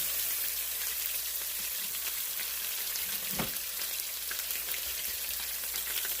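Thick pieces of porterhouse steak sizzle steadily in a pan, a constant crackling hiss with small pops that holds the same level throughout, with no one talking.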